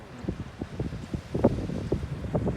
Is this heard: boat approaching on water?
yes